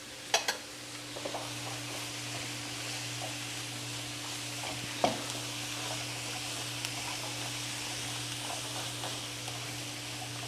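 Three vegetables frying together in a pan, a steady low sizzle and hiss running throughout with a few clinks of stirring near the start and one sharp tap midway.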